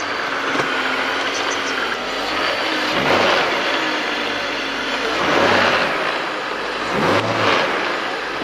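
BMW E39 530i being revved after throttle body work, its engine rising in three or four swelling revs over a steady idle, close and loud with no talk.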